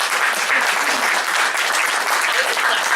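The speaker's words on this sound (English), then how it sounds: "Round of applause." Strong, sustained audience applause for candidates at a community meet-the-candidates night, many hands clapping evenly at close range without letting up.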